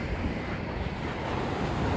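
Calm sea waves wash at a seaside under heavy wind buffeting the microphone, a dense, steady roar with no voices.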